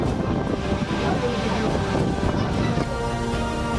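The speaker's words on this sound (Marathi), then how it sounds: "नांदेड जिल्ह्यात सोसाट्याच्या वाऱ्यासह जोरदार पाऊस झाला" A strong gusty wind roars steadily with heavy rain in the Nanded district of Maharashtra, as a loud continuous broadband rush buffets the microphone throughout.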